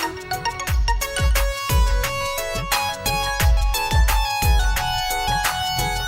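A phone's repeating melodic ringtone plays steadily, bright plucked tones with a low thump on each beat, continuing without pause.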